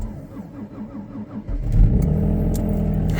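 An unplugged car engine cranks repeatedly in bitter cold, the starter grinding in a rhythmic labored pattern before the engine catches and settles into a rough, loud idle.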